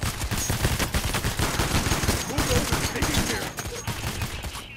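Rifle fire in the heist shooter game Payday: The Heist, rapid bursts of loud, close shots crackling continuously with scattered extra reports, sustained for several seconds and easing slightly at the end.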